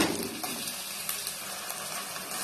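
Onion with a ground paste of shallots, garlic and ginger sautéing in a pan for turkey biryani, a soft, steady sizzle with faint stirring scrapes, quiet and continuous.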